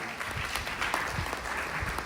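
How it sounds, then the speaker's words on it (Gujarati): An audience at a devotional music program claps to welcome two young girls who performed, a dense, steady round of applause that holds evenly for about two seconds. "પહેલા તો અમારી ઓલી બંને દીકરીઓને તાળીઓથી વધાવો"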